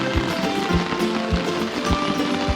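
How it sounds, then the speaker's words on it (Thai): Steady rain patters on a tree canopy above a hammock at a solo wild campsite on Doi Pha during a night storm, with dense close drops and a few heavier thumps of water falling from leaves. "ตอนนี้ฝนตกแล้วฝนตกขนาดครับตอนนี้"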